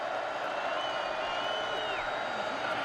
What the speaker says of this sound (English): Crowd comes to life here on 3rd and 5.